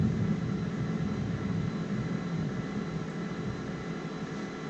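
Air Tractor 502 turbine engine spooling up during a start in a flight simulator, a steady, even whine and rumble holding at a constant level throughout.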